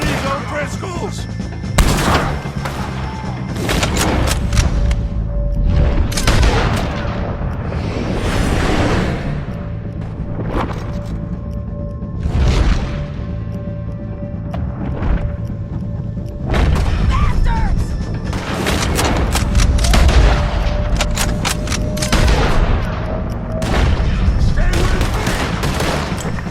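Gunfire from Red Dead Redemption 2 as O'Driscolls are shot: repeated loud bursts and volleys of shots with booming impacts across the whole stretch, under and between shouted voices.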